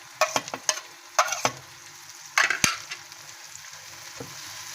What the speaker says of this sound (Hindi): अब हम इसमें अपनी हरी मिर्चें जो काट के रखी हैं वो शामिल करेंगे।